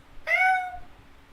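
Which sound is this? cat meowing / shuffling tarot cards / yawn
cat meowing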